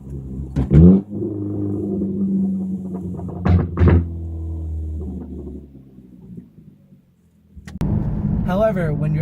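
An engine on a car with a muffler delete drones close and loud, with sharp knocks and a deep rumble that fades, then returns with a raspy, rising roar as it accelerates at high RPM.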